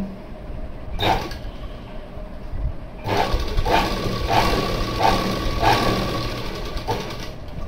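A sewing machine running a double seam on a blouse: a short burst near the start, then a steady whirring run with regular rhythmic pulses, close and alone with no talk.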